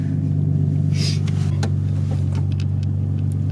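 A Nissan R32 Skyline drift build with a loud exhaust rumbles steadily up close, a deep continuous engine drone with no talking.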